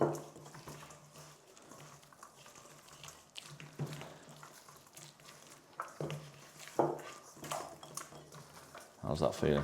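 Burger mince worked together by hand with onion, salt and pepper in a bowl, giving soft squelching and intermittent knocks against the dish at moderate distance, with a voice speaking over it.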